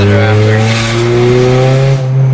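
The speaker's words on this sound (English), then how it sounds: "it's sputtering and popping through my flex pipe area" A loud, close car engine idles roughly with a steady drone and a ragged, sputtering exhaust tone through a worn-out flex pipe on aftermarket headers, before cutting off briefly at the end.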